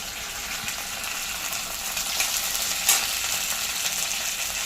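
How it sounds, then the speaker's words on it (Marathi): Curry leaves and green chillies crackle and sizzle in hot oil for a kanda poha tempering, a steady close spitting hiss with a brief sharper pop near the end. "मिरच्या जरासा परतून घेऊया मस्त कढीपत्ता टाकतोय"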